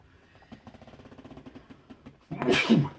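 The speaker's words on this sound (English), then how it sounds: "I had to sneeze there." Quiet rhythmic clicking and humming runs for a while, then a loud, sudden sneeze bursts out close by near the end.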